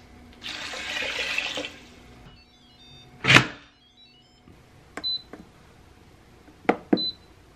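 Water pours in a short steady stream, just over three cups for cooking lentils, followed by a clunk and a few faint beeps and clicks in a quiet room.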